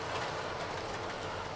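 An HO-scale model train pulling covered hopper cars and 1940s–50s period freight cars runs along the track with a steady, close rolling rumble and faint rhythmic wheel clicks.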